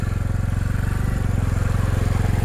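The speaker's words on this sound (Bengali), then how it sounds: "ইঞ্জিন চলে গেছে অর্ধেক।" A motorcycle engine chugs in a fast, even pulsing rhythm while the bike crosses water in a Bangladeshi village, engine half submerged; loud and close, with no voices.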